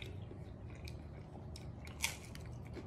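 Close, crisp crunching and chewing of a bite of crunchy Rhombus Guys frozen pizza with a cardboard-like crust, with irregular bites and one sharper crunch near the end, and no talking.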